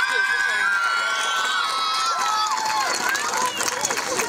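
Crowd cheering and shouting with children's voices at a ceremony, a steady bright wash of yells and whoops, loud and continuous throughout.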